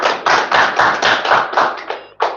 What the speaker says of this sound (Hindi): सब विदेशी ताली बजाओ